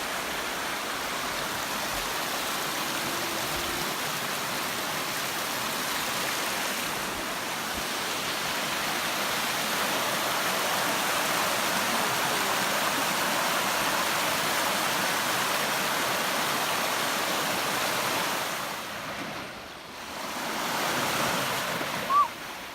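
The river at Hurricane River Campground in Pictured Rocks National Lakeshore rushes steadily and close by, a dense, even wash of water with a brief dip near the end.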